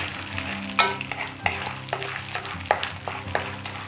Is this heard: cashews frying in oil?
yes